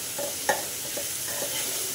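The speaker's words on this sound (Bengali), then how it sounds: "আমি এটাকে সফট হওয়া পর্যন্ত নেড়ে নেব" Onions are stirred as they fry in a pan, a steady sizzle with a few soft scrapes and one light knock of the spoon against the pan.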